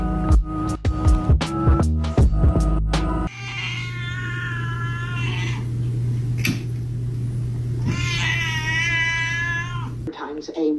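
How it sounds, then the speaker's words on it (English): A cat meows and caterwauls in a home, drawn-out wavering cries rising twice over a steady low hum, after a burst of loud plucked music at the start. "This is a cat."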